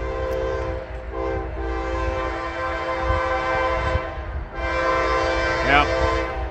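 A CSX freight train passes near a historic depot in Pesotum, its horn blaring in two long, loud blasts over the rumble of rolling cars, with brief voices in the background.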